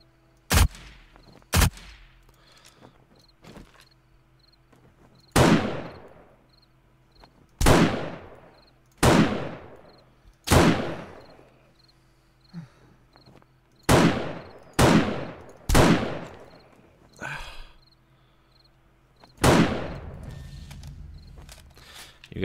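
Submachine gun fire from the video game 7 Days to Die rings out in about a dozen sharp, loud bursts spaced a second or two apart, each with a short decaying tail, over a faint ambient hum and no talking.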